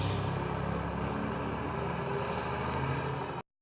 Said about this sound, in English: wanted to let that truck go by that was loud as hell for no fucking reason at all